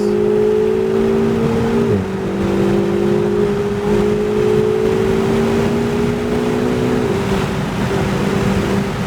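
A Lamborghini Huracan on a race track, its engine droning loud and steady from inside the car, pitch rising under throttle with a brief gear-change dip and sustained acceleration.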